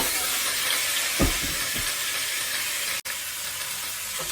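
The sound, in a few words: chicken sautéing in a pan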